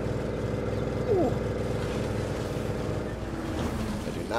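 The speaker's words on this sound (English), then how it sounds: "Not like the sound my engine is currently making." Vehicle engine in the video game State of Decay, a steady low droning rumble with a rough, laboring tone running throughout, loud and continuous with a brief swell partway through.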